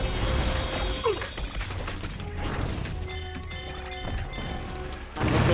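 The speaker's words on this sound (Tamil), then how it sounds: "அந்த சைட்லேருந்து அந்த பாறை உடஞ்சி விழுகுது" Rock breaks apart and falls in the Ben 10 Protector of Earth video game, heard as a crashing, clattering mechanical rumble over continuous game sound with a burst of noise near the end.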